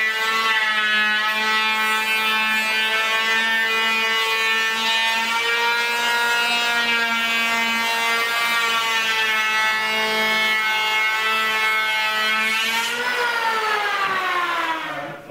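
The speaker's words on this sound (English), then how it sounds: "what I have here is a electric planer, and I'm going to use that to give this one pass along this edge" An electric planer makes one pass along the bevelled edge of a door, a loud, close, high-pitched whine held steady for about thirteen seconds before its pitch drops as the cut finishes and the motor spins down.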